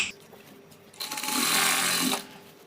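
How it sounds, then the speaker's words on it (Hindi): A sewing machine runs long basting stitches to tack piping into a garment panel: a quiet lead-in, then about a second of steady, close, loud motor whirring with needle chatter that stops abruptly. "आपको ऐसे रखिए इसे और बड़ी सिलाई से इसमें कच्चा कर दीजिए।"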